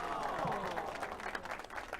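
Short burst of crowd applause in the video game The Lion's Song, a dense, even clatter of many hands lasting about two seconds.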